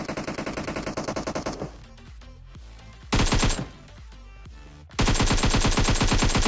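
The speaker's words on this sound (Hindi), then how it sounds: "भाई इधर से फायरिंग बढ़ रही है" Gunfire in PUBG Mobile: long rapid automatic bursts, loud and close, with a quieter stretch of scattered single shots between them.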